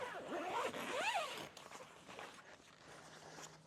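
A zipper is pulled along the canvas door of a rooftop tent, several quick rising zips close by, followed by quieter rustling of the fabric.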